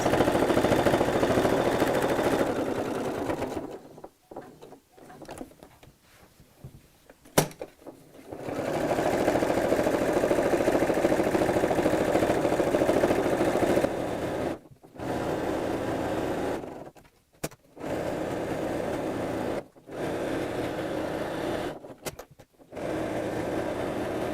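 A sewing machine stitches around a woven fabric cushion cover in long, loud, steady runs of fast mechanical whirring, stopping several times for short pauses before starting again.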